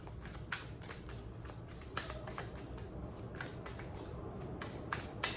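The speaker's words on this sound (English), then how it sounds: "while I'm shuffling this" Tarot cards are shuffled in a soft, continuous riffle of quick flicks and slaps, close by and fairly quiet, over a steady background hiss.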